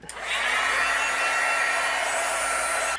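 A heat tool blows a steady, loud, continuous whoosh while melting gold embossing powder for a handmade card, running alone and unbroken throughout.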